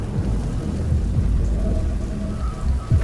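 Steady rain with rolling thunder, a constant wash of downpour beating on surfaces and deep rumbles swelling underneath, loud and close throughout with no voices.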